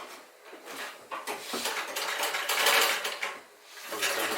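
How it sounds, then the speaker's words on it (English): An old sewing machine left in an abandoned Portuguese mansion runs with a steady rapid clatter of needle and mechanism, close up and continuous, easing briefly before picking up again. "this sewing machine is actually still transmitting."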